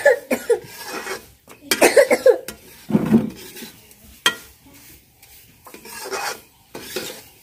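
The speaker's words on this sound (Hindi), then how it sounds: "तो अच्छे से देखिए आप हम भून रहे हैं" Semolina roasting in a pan as a spoon stirs it, with intermittent scraping strokes against the metal and a soft sizzle in short bursts, close and fairly quiet, and no talking.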